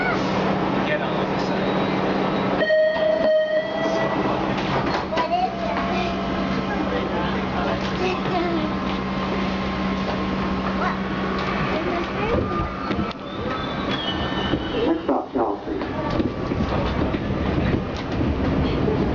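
A metro train running, steady rumble and rattle of the carriages continuing throughout at close range, with brief louder clatters and a shift in tone near the end; a voice is faintly heard over it.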